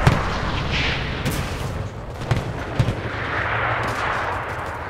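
Gunfire in the WWII shooter Enlisted, several sharp distant shots and booms cracking over a steady rumbling battlefield background, no voices.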